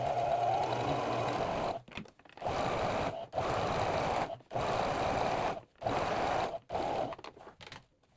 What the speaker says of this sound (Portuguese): vou fazer uma costura de pesponto de mais ou menos meio pezinho de máquina. Retrocesso e vou costurar